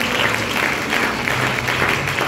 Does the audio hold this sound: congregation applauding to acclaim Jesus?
yes